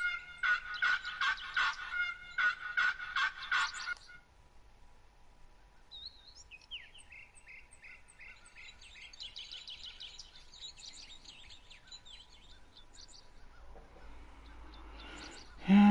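Wild turkey calls in the Wild Turkey Hunter video game: a loud rhythmic burst of clucking and gobbling, followed by quieter chirping bird calls over faint background hum.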